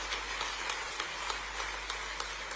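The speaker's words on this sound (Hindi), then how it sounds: "तालियां बजा के स्वागत कीजिए," Faint, steady applause from an audience at a sports awards ceremony in Bhopal, greeting sports minister Anurag Thakur, heard as a soft, distant wash of clapping throughout.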